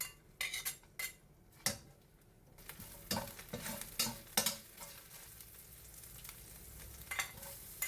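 Ginger sautéing in a clay palayok, with a spoon clattering and scraping against the pot in scattered bursts over a faint, steady sizzle, close and quiet overall.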